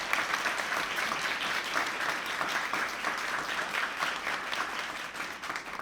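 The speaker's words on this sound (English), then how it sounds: "Let's give them a round of applause" Steady applause from an audience at a tech talk, dense and continuous clapping with no voices standing out, sustained at an even level throughout.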